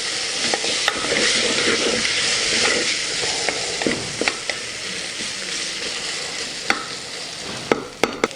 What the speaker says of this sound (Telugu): ఈ పచ్చివాసన పోయేంత వరకు వేగించుకోవాలండి.